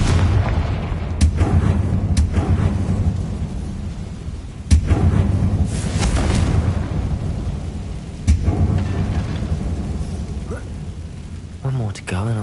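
A Confringo blasting spell fires in Hogwarts Legacy, heavy booming blasts at about 1, 4.7 and 8.3 seconds over a dense rumbling game soundscape, loud and close with a voice speaking throughout.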